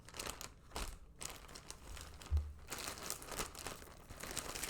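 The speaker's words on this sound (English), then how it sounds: "I know, a lot of rustling and crinkling and all that good stuff." Close, steady rustling and crinkling of stitching materials, such as aged hazelnut 40 count linen fabric, handled continuously with soft crackles and occasional louder crunches.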